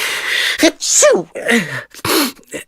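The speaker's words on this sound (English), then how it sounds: "Oh, I have to sneeze." A person sneezes in a few loud, close bursts with sharp breathy onsets, separated by short quiet gaps, in a children's cartoon setting.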